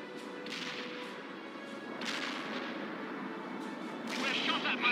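Distant gunfire and explosive impacts from the PC strategy game World in Conflict, with several sharp cracks scattered over steady battlefield rumble and radio-style voices.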